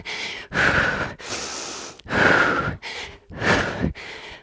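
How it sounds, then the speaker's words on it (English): A person breathes hard and deeply through cardio exercise, with loud, close inhales and exhales in an uneven rhythm of about five long breaths. "So breathing deeply here."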